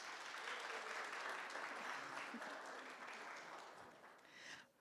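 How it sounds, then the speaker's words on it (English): Audience applause at a guide dog graduation ceremony, a steady wash of clapping lasting several seconds before tapering off, with no one speaking. "let's go ahead and give them a round of applause"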